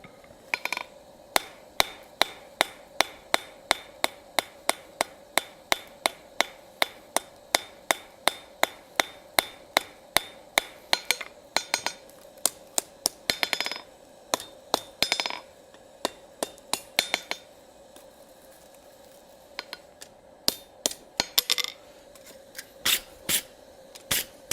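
Ball peen hammer striking hot steel on an anvil to texture a forged ladle handle, a long run of sharp metallic ringing blows in a steady rhythm, with a brief pause and then scattered strikes.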